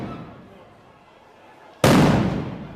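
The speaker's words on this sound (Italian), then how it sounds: "I centri sociali hanno risposto con fumogeni e petardi." A single sharp firecracker or smoke-bomb blast bursts loudly at a street protest between No Global demonstrators and police in Mestre, Venice, following a stretch of low crowd murmur and then ringing on broadly.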